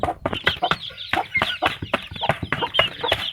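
Backyard hens and roosters feeding on wheat, clucking repeatedly in a dense, busy stream of close, fairly loud calls, with no one talking over them.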